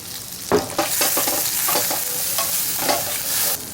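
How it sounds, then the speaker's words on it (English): Shallots fry in melted butter in a pan at a camp stove, seasoned with salt and black pepper, producing a close, busy sizzle broken by several scraping stirs of a utensil, with no voices. "we're going to get our butter melting. And then we're going in with the shallot."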